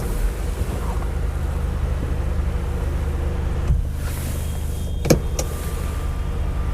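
The electric sunroof motor of a 2022 Hyundai Verna 1.5 diesel runs with a steady, smooth whir inside the cabin, ending in a couple of sharp mechanical clicks as it stops.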